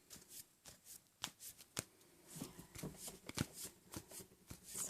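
Tarot cards being shuffled by hand for a love and spirituality reading, a steady run of soft riffling slaps and papery flicks at close range, with no talking.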